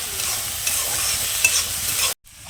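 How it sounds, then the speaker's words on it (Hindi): Black soybeans (bhatt) roasting in a kadhai, stirred steadily with a soft, continuous scraping sizzle close up, with a brief scrape near the middle and a sudden cut to quiet near the end. "कढ़ाई में काले भट्ट को भूनते हुए करीबन 5 मिनट हो चुके हैं"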